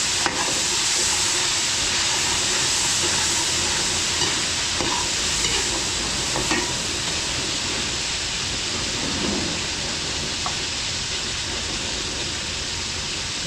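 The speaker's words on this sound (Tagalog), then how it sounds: "Ito kapag may yung mantika natin, mabilis din maluto yung ating bawang sibuyas." Garlic and onion fry in hot cooking oil, giving a steady, loud sizzle close by, broken by occasional stirring scrapes, with no voices.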